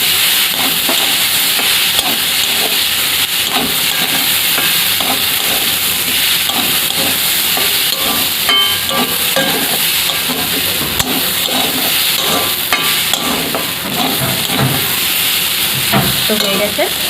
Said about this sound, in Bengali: তো একটু নেড়ে চেড়ে নেবো সব